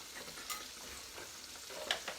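Faint, soft sizzling of pork chops frying in a pan, a low crackle with a few small pops.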